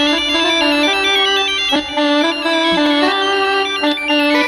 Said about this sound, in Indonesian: Bang, handphonenya bunyi tuh